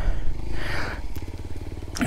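A motorcycle engine runs close by in a short burst, a low rapid putter with a rougher, louder patch partway through.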